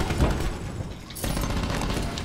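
Gunfire in Black Ops 4 rattles in dense, rapid bursts that are fairly loud and sustained, with a brief dip before the shooting resumes.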